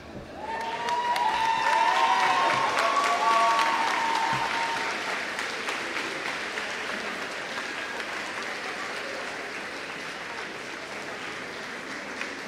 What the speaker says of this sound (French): de vous tourner vos parents et de fortement les applaudir